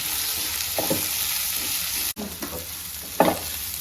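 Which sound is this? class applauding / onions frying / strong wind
onions frying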